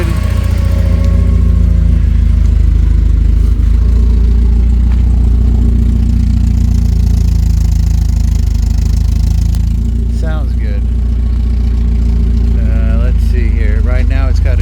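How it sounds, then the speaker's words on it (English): A 1988 Porsche 944 race car engine idles steadily and loudly up close after months of sitting, a constant low rumble throughout with a voice talking over it toward the end. "1988 Porsche 944 runs good, idles good."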